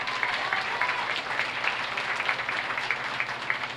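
A crowd claps steadily for a class winner at the Buffalo County Fair swine show, an even, sustained round of applause at moderate distance with no talk over it.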